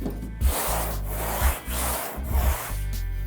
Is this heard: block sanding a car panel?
yes